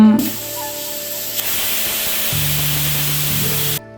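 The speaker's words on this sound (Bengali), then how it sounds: "কুকার সিটি মারছে মনে হচ্ছে চাল রেডি হয়ে গেছে" Pressure cooker cooking rice lets off a loud, sustained hissing whistle of steam that runs steadily for several seconds before cutting off abruptly, with a low tonal hum joining partway through.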